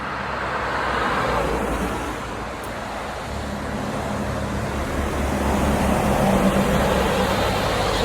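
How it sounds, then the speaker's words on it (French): A truck rolls along a busy roadside on a cold day, a broad rushing roar of traffic that swells toward the end as the heavy vehicle comes closer. "je vais laisser passer le camion"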